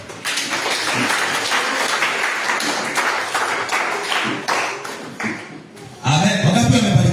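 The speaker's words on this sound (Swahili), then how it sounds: "Sikie Bwana Yesu makofi." A church congregation claps during a Sunday main service, with a steady wash of hand claps for about six seconds before music with singing abruptly takes over.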